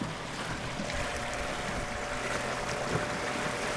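An Epropulsion Spirit 1.0 electric outboard drives a small boat at full throttle, a steady whine over constant rushing water and wind noise, close and even throughout.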